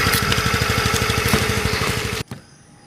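A TVS Jupiter 110 scooter's 113cc engine idles steadily with an even, rapid low thrum close by, then cuts out abruptly near the end, leaving a quiet lull with a few faint clicks.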